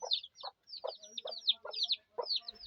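Backyard chickens kept alongside rabbits cluck close by in a series of short, choppy bursts, about eight calls over a few seconds with brief gaps between them, and no talking over them.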